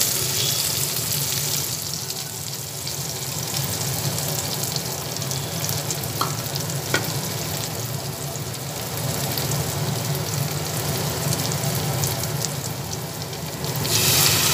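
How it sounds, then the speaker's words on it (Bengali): Sliced onions fry in a pan until reddish, then sesame is added for til katla, giving a steady loud sizzle and hiss throughout with a brief metallic tap midway. "পেঁয়াজটা লাল লাল করে ভাজা হচ্ছে"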